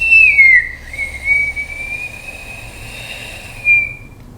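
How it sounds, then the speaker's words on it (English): A single sustained whistle made by drawing breath through the mouth during lung-focused pranayama breathing, holding a steady pitch with a slight wavering dip near the start, fairly clear and close. "You can actually whistle, drawing the breath in and out."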